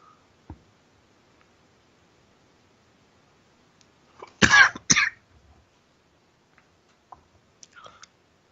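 A person coughs twice in quick succession, close to the microphone, during a quiet game-development session, followed by a few soft clicks.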